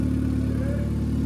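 Honda EG hatchback with a newly fitted exhaust, engine running at a steady mid-pitched drone, close and loud, with a brief rising rev in the middle.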